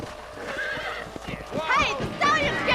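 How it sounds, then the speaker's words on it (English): A stallion in the video game Red Dead Redemption neighs and whinnies loudly several times, with hooves clip-clopping and a voice speaking over it. "the stallion's getting away! Chase him down and bring him back!"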